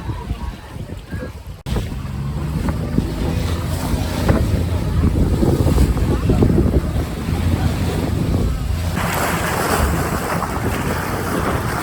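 Sea surf rolls in at Inzhir beach under heavy wind buffeting on the microphone, a broad continuous roar that stays loud and close throughout with no clear talk.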